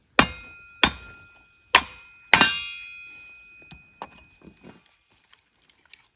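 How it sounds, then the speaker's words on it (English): A sledgehammer strikes a wedge into firewood with four loud, ringing metallic clangs spaced about half a second apart, followed by fainter cracks and taps as the wood splits. "Give it a couple taps to get it stuck, and then swing the sledgehammer hard."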